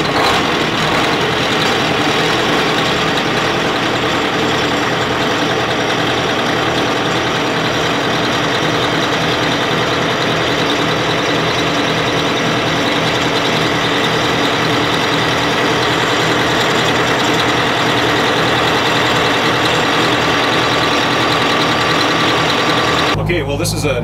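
A 1991 Tollycraft 61 with Detroit Diesel engines idles loudly and steadily, a deep throbbing rumble that runs unbroken before cutting off abruptly near the end.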